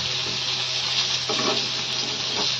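Kakrol (bitter gourd) fries in a pan while being stirred, a loud, close, continuous sizzle with brief bursts of scraping and stirring noise, no one talking.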